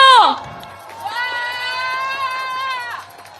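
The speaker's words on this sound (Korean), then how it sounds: "윤석열 하면 여러분이 크게 파면한다라고 답해 주십시오" A large crowd at a political rally in Korea shouts a chanted response in unison, a sustained roar of many voices lasting a couple of seconds after a single amplified voice calls out.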